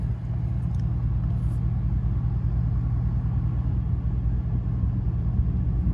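A 2013 Chevy Tahoe PPV engine drones with a loud, steady low rumble that holds at an even level throughout, with no voices over it.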